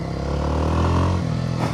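A 2025 Kawasaki W230 retro motorcycle cruising on a night ride, its small single-cylinder engine humming steadily up close with a low, continuous drone and slight shifts in pitch, no talking.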